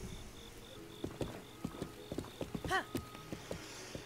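Horse hooves clip-clop in a steady, moderately quiet rhythm in the video game The Legend of Zelda: Breath of the Wild, with a brief whinny partway through and soft ambient insect chirps behind.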